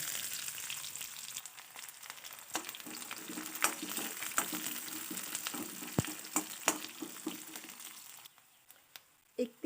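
Chopped onion frying in hot oil with cumin seeds, a steady close crackling sizzle with scattered stirring clicks and taps, louder knocks near the end.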